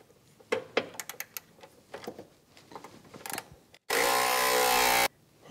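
A ratchet with a deep socket loosens bolts on a Land Rover LR3 vacuum pump bracket. Bursts of quick clicking and metal clatter come first, then a loud, steady mechanical whir lasts over a second before stopping.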